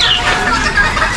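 A purebred Boston Round rooster clucking up close in a farmyard, with a continuous, scratchy run of short calls and no talk over it.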